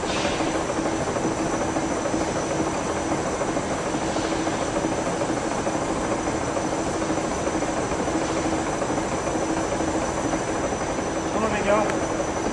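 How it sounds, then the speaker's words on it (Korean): A magnetic-force piston engine runs with a steady, loud mechanical whir and hum that holds unchanged throughout, with a faint high whine above it. "자기력에 의한 엔진 구동이 실현될 수 있도록 하였습니다."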